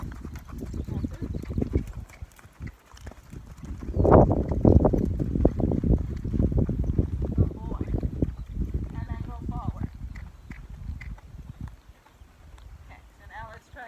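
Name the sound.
horse cantering, hooves clip-clopping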